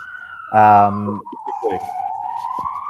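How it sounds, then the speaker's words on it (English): A steady siren tone holds throughout, slowly wavering in pitch, with a brief burst of voice and some background noise over it partway through. "like a siren or something"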